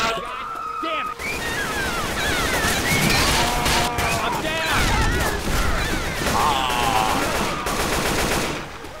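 Dense automatic gunfire in Left 4 Dead 2, continuous loud rattling bursts mixed with crashes and impacts, with people talking over the shooting throughout.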